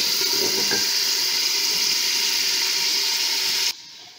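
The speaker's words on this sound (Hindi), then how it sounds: "ये प्याज हमारे फ्राई हो रहे हैं" Onions fry in a pan for a dhaba-style bhuna gosht, giving a loud, steady, close sizzling hiss that cuts off abruptly just before the end.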